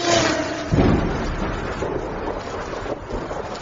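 Steady heavy rain pours down with a low rumble of thunder rolling underneath, loud and continuous throughout, during fast driving on the Pune expressway.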